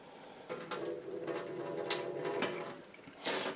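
Cloudy water with cucumber seeds is poured off from a container, a splashing, trickling pour that starts abruptly, runs unevenly with gurgles and spatters, eases, then surges again briefly at the end.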